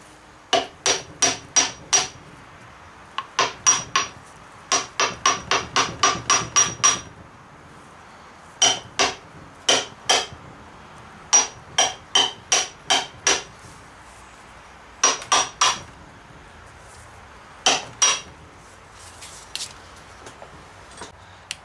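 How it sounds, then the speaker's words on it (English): A new cap is hammered into a gearbox with a 39 mm socket, sharp metallic blows landing in quick rhythmic bursts separated by short pauses, loud and close with no talking. "now we're gonna hammer this cap back in. We're gonna use a 39 millimeter socket."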